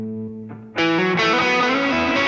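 Electric guitar played through a Line 6 Pod Express on its tube screamer overdrive setting, aiming for a worship tone: a fading chord gives way to a loud, gritty strummed chord, then another ringing strum that sustains.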